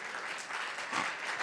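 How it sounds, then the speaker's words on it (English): A conference audience at a startup summit in Spain applauds the jury, a soft, even wash of clapping heard at a distance, fairly faint and sustained. "I want a big applause to the whole jury"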